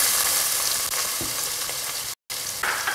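Sliced onions frying in hot oil in a pan, already seasoned with cinnamon, cloves, cardamom, cumin and dried red chillies, a loud continuous sizzle with occasional scraping stirs and one brief dropout.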